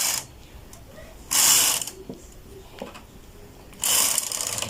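A knitting machine carriage is pushed across the needle bed in two loud, close sliding rattles of about half a second each, with quieter clicks and clatters between them.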